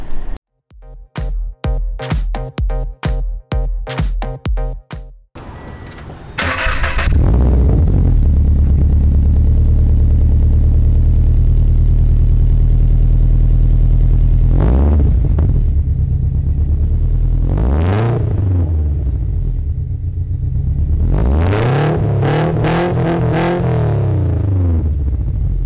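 Subaru BRZ / FRS with an over pipe and catback exhaust: a string of sharp cranking pulses, then the engine catches into a steady deep drone, followed by three rising-and-falling revs, loud and close.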